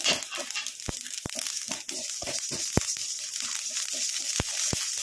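Mustard seeds spluttering in hot oil over a low flame, sharp scattered pops and crackles breaking out irregularly over a steady hiss, close and fairly loud with no talking.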